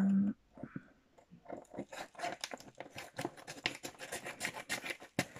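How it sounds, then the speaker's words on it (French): Scissors snip and scrape through a parcel's packaging in a quick string of close, crisp cuts and rustles, with no talking. "Je vais prendre mes ciseaux."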